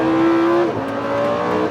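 Lamborghini Huracan engine revving hard under full throttle, a loud sustained roar with a pitch shift partway through as it changes note, close and alone.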